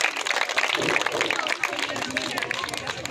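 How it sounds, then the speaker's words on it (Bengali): An audience at a gathering clapping loudly in a dense, continuous patter of hands that fills the whole moment, with a voice faintly mixed in. "জোরে হাততালি সবাই একবার।"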